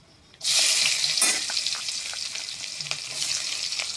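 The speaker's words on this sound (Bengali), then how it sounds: "তারপর দিয়ে দেব পেঁয়াজ কুচি" Chopped onion hits hot oil already seasoned with black cumin, bursting into a loud, sudden sizzle that holds steady as a dense, crackling fry. Occasional light clinks and scrapes of stirring sound through it, with no talking.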